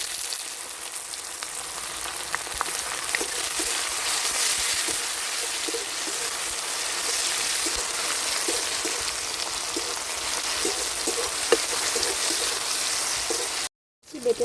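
Ground chili paste and chopped tomato fry in a pan with a steady, rain-like sizzle and scattered crackles close by, lasting throughout before a brief cut near the end, no speech.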